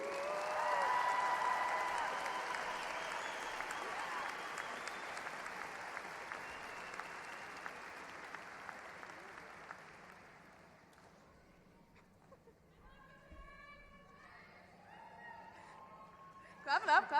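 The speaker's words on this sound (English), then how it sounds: "Clap it up, clap it up" A large audience at a high school graduation ceremony claps loudly for about ten seconds, then the applause fades out and a voice begins speaking over a quiet room.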